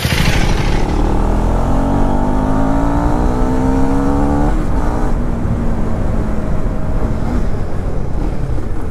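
A 2024 Husqvarna Svartpilen 401 motorcycle engine revs up loud and close. The pitch climbs, drops at a gear change, then climbs again, all under steady wind rush.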